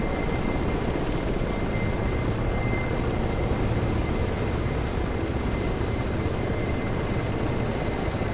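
An aerobatic airplane's engine drones steadily and loudly without a break while it flies a spiral cone figure at an air show.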